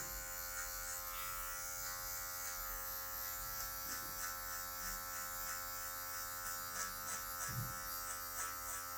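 An electric hair clipper fitted with a guard comb runs while cutting hair at a barbershop fade, a steady close buzzing hum with small shifts in pitch and texture as it moves across the head.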